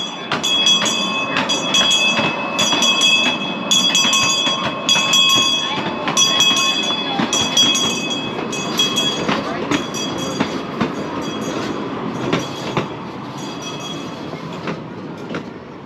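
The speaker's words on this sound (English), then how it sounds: "Here's the train that we just left" A train pulls up at the Virginia City depot in Montana, a steady rumble with rhythmic wheel clatter and squealing metallic tones, heard at moderate distance and fairly loud throughout.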